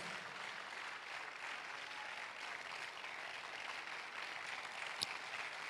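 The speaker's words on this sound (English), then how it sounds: "Clap your hands unto the Lord." A church congregation clapping hands during a worship gathering, a faint, distant, sustained wash of many hands applauding evenly with one brief sharp knock near the end.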